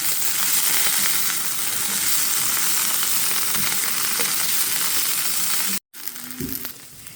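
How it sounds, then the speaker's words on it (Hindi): Long, thinly sliced garlic frying with okra in a pan, giving a steady, close, loud sizzle that cuts off abruptly, then returns with a few faint stirring knocks, and no speech. "और इसको भी अब हम 2 से 3 मिनट इसके साथ भूनेंगे।"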